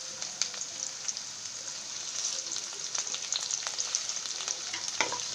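Onions sizzling in a pan for poha upma, a dense steady crackle and hiss with small bursts as the pieces are stirred, close up and alone.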